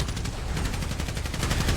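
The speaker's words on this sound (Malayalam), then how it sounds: "വെടി" Rapid automatic gunfire in a battle video game sounds as a fast, steady stream of sharp, close, loud shots with no pause.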